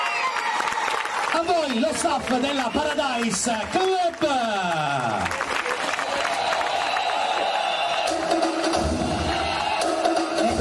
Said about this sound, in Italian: glielo facciamo un applauso a questi validissimi